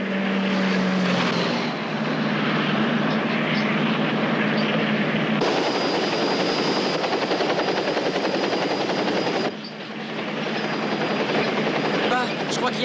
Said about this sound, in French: je crois qu'il y a un hélicoptère qui nous suit